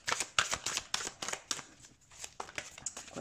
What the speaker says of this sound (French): je vais me tirer plusieurs cartes